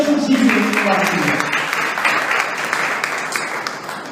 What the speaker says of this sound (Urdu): تالیاں بجائیے یسوع مسیح کی قربانی.